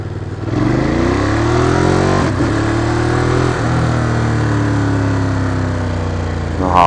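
A motorcycle engine revs up loudly and close, its pitch climbing steadily through a gear, dipping with a shift, then pulling again under continuous throttle.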